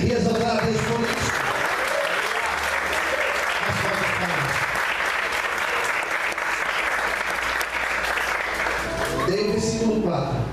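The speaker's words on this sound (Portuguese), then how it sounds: "Você pode aplaudir e exaltar a Deus por isso." A church congregation bursts into dense, sustained applause that fills the room loudly and continuously, with voices rising within the crowd and cheering at times.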